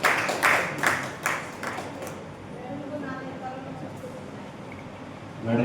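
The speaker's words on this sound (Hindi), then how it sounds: "एक बार जोरदार तालियां से देवेंद्र नवाज़ी के लिए" Applause for poet Devendra Narwal at a literary stage gathering, a burst of close clapping in the opening two seconds that quickly thins out, followed by quieter room murmur and a voice speaking.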